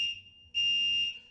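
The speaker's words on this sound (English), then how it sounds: "Oh, this freaking fire alarm." A fire alarm sounds indoors as a steady, piercing electronic tone that swells louder partway through and holds continuously, with no voices over it.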